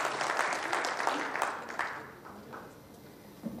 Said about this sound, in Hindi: जोरदार तालियों से स्वागत करिए सर।